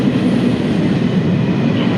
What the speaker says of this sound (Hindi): तो ये वाली ट्रेन जाएगी मेरे डेस्टिनेशन के लिए।